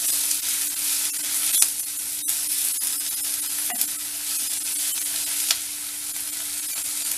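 Steady sizzling and crackling of vallarai keerai (gotu kola greens) cooking in a pan, with occasional stirring scrapes and clicks, close by and without any talking.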